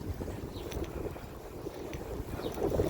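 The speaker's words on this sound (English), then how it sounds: "The wind is blowing, so you probably hear more of that than me" Wind blows steadily across a microphone outdoors during a walk, producing a continuous low rumbling buffet that stays fairly loud throughout.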